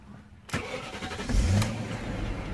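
A 2001 BMW 540i E39 with its V8 engine cranks and catches after a short quiet lead-in, then settles into a loud, steady near idle with a brief rev-up as it fires.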